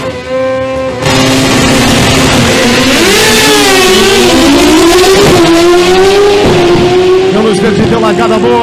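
A drag racing motorcycle launches at Velopark, its engine revving hard with pitch climbing through the gears, loud and close. Excited voices shout over it.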